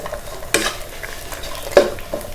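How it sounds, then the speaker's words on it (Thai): Ginger and sea bass stir-fried together in a pan: a low sizzle under two distinct scraping strokes of a spatula against the pan, close and clear, with no talking. "จากนั้นเราก็จะมาผัดรวมกันเลยนะคะ"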